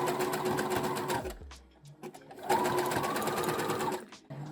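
A sewing machine stitches elastic onto knickers, running in two fast, buzzing bursts split by a short pause of handling noise, heard up close.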